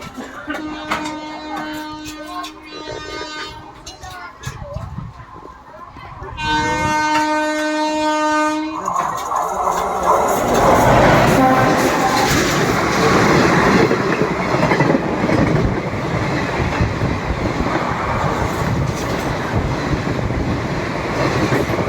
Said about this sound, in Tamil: ஒரு ட்ரெயின் வந்து க்ராஸ் ஆச்சு